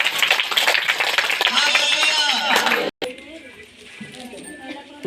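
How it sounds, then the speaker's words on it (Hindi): A church congregation claps loudly for Jesus in a dense, continuous burst that stops abruptly, followed by quieter room noise and murmuring voices. "जोर से प्रभु के लिए ताली बजाएं।"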